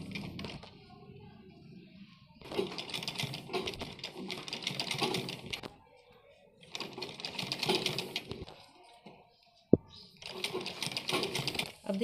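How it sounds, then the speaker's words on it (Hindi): A sewing machine stitches around the back neck of a kurti in three separate bursts of rapid clattering, with pauses between them and a sharp click in the last gap; a voice speaks faintly during the pauses. "इसके चारों तरफ सिलाई लगाएंगे"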